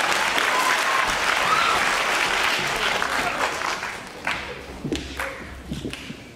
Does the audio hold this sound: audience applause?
yes